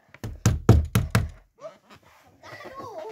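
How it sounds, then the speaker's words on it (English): Four loud, evenly spaced knocks on a door ring out close by, followed by a person speaking softly. "I'm going to knock on the next door."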